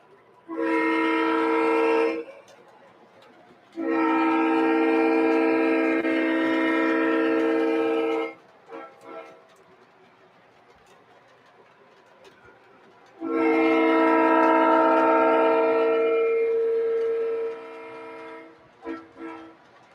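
A model Alco locomotive sounds its horn in three long loud blasts with pauses between, a rich multi-tone chord over a faint rolling hum.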